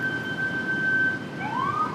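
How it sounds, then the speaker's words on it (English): A siren wails in the distance, a steady tone that sweeps upward near the end, faint over quiet background hum. "Sorry if you can hear all the sirens"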